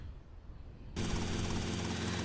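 A helicopter in the video game GTA Vice City: after a second of low background hiss, a loud, steady rotor and engine drone starts abruptly and continues evenly.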